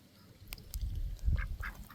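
Ducks quack in a few short, close calls outdoors at a creek, with a couple of quick quacks rising near the end.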